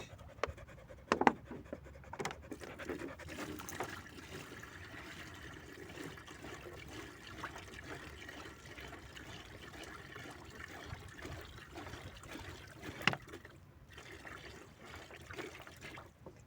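Water poured from a thin plastic bottle that folds while pouring, trickling and splashing onto clothes for a final hand rinse, with a few louder crinkles of the bottle near the start and near the end.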